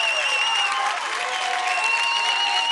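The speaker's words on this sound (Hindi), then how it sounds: "जोरदार तालियां हो जाए" Loud, continuous clapping from a studio audience after a dance performance on a televised dance competition, with some tonal music or cheering tones held underneath throughout.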